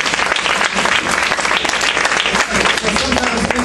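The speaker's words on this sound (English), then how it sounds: "Give Andrew a round of applause" An audience at a congressional event honoring civil rights leaders gives a loud, sustained round of applause, many hands clapping densely with a few voices murmuring beneath.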